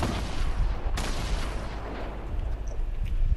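Grenade explosions in a video game: a dense, continuous barrage of booming blasts with one sharp burst standing out near the start, loud and close throughout.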